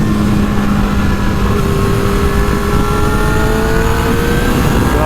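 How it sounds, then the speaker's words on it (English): A Suzuki GSX-R 750 motorcycle on a trackday, its engine held high against the rev limiter, with a loud, steady, rising whine under heavy wind roar. "every straightaway I'm like just running up on the rev limiter"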